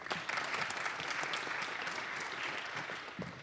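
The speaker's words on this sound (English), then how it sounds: "Big round of applause" An audience at a congressional panel discussion held before the State of the Union gives a round of applause, a dense, even patter of many hands that runs steadily for a few seconds.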